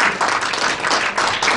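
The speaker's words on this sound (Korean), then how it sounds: "박수로 네, 맞아주세요." Audience applause at a poetry book launch event, a dense steady wash of clapping from a crowd lasting throughout, fairly loud and continuous with no talk over it.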